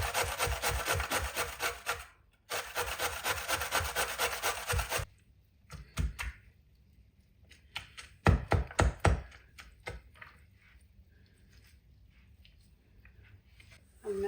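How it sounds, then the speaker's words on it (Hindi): Radishes are rubbed on a hand grater to make mooli paratha. The rasping strokes are rapid and rhythmic, come in two dense bursts over the first five seconds, then turn sparse and intermittent with a few scrapes and taps. No speech is heard. "अब यहाँ पे इनको कद्दूकश कर लेंगे।"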